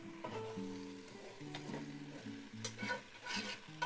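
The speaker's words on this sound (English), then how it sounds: "Now you probably heard the sizzle, right?" Chuck pot roast for a braised Caribbean dish sizzling in a hot Dutch oven, a faint crackling fry with stirring scrapes and some background music tones, brief and quiet.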